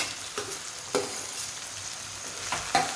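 Carrots, cauliflower and other vegetables for veg pulao fry in a pan with a steady sizzle, broken by several sharp scraping stirs of a spoon, close and alone.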